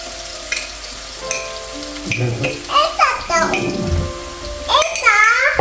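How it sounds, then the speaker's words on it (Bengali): A pan sizzles as ingredients fry for an Italian seafood pasta with octopus and mussels, a soft steady crackle beneath a voice and an adult's voice talking over it. "দুই মিনিট তিন মিনিট ভাজবো এটা হালকা একটু ব্রাউন কালার হলে"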